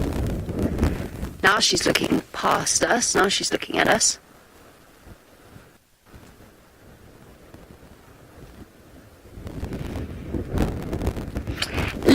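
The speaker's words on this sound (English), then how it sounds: "I mean, it's windy." Wind buffets a microphone with gusty roaring, heaviest in two stretches, while a person talks over it; quieter rumbling fills the gap between.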